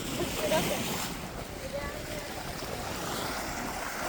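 Small waves lap on the sandy beach of the lake Máchovo jezero on a windy day, a steady wash of water with gusting wind noise buffeting the microphone throughout.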